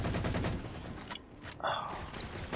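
Rapid gunfire from the player's weapon in Halo 4, a dense stream of shots at close range, broken by a brief lull and a short mechanical tone before firing picks up again.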